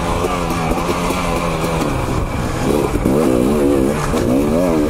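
A motorcycle engine revs under throttle, holding a loud, steady drone that rises and wavers into repeated revving swells toward the end.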